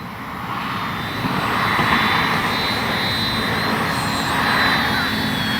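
An FMS Ranger 1220 RC plane's electric motor drones steadily overhead at moderate distance, a continuous whine that swells slightly as it passes, with outdoor wind noise beneath.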